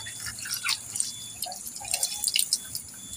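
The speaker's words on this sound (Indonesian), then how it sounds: "Itu sendal mama aku udah kotor, aku cuci sekalian." Running water drips and trickles onto dirty sandals being washed by hand, a steady patter of small splashes close by with no talking.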